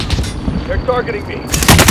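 Rapid automatic gunfire in a video game, crackling in close, loud bursts at the start and again at the end, with brief voice chatter in between.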